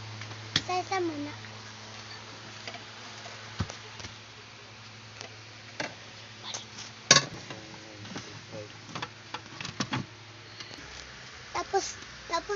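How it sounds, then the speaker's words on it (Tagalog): Dishes are turned over and set down after wiping, giving scattered light clinks and knocks of plates at close range, with someone talking quietly in between. "Tapos na pa tayo magpunas at magtataob naman po tayo ng pinggan."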